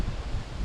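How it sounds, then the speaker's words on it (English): Strong wind buffets the microphone while bikepacking against a headwind on a ride from Barnard Castle to Whitby, a steady low roaring rumble with gusty rustling throughout, close and fairly loud. "It's very windy, okay?"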